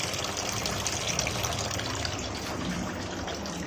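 Steady rush of water running through the open wash valve of a small five-stage ultrafiltration (UF) water filter plant, a continuous broadband flow held at an even level for a few seconds with no talking.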